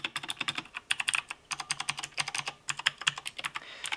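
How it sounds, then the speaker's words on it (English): Close-up clacky keystrokes on a mechanical keyboard with a slight twang, rapid bursts of typing with brief pauses between runs. "I'm just gonna type for you a little bit"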